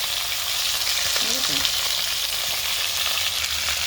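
Fresh fish fry in a pan of hot oil, a loud, continuous sizzle that holds steady throughout, with no clear talking.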